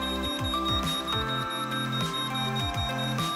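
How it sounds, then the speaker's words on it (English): Repeated electronic beeps from an ATA GDO-6 garage roller door motor in transmitter coding mode, in a steady pattern, loud and close, with a mechanical hum beneath and no talking. "You will notice the motor has started to flush and make a beeping sound."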